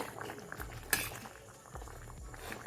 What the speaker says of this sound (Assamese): এয়া উতলিলে